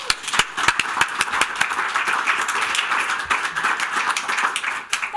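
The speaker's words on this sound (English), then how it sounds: "Round of applause, please." An audience at a live gospel, jazz and blues music night applauds, steady crowd clapping at moderate volume with sharper individual claps standing out, continuing throughout.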